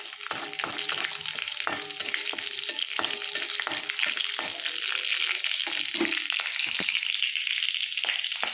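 Whole cumin, bay leaves, cardamom, cinnamon, cloves and dried red chillies tempering in hot oil, a dense crackling sizzle with frequent pops and spatula clicks, loud and close with no talking.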